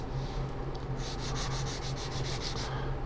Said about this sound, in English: And I'm using my 1500 grit again,